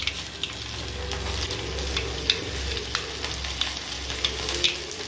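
Mustard seeds, urad dal, cumin and fenugreek spluttering and crackling in hot oil for a tempering, a dense continuous sizzle dotted with sharp little pops, close and steady with no voices.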